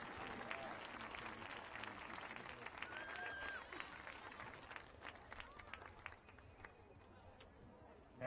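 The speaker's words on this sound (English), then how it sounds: "Let's give a round of applause to your AAA girl runner-up" Crowd applause fills a gym at a 2016 PIAA District 3 AAA girls soccer championship ceremony, steady clapping from a sizable audience that slowly thins out, with an announcer's voice over it.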